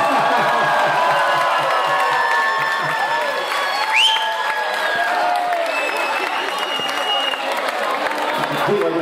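An audience at a birthday celebration in Csorna claps and cheers, a loud sustained wash of applause with whoops and shouted voices throughout.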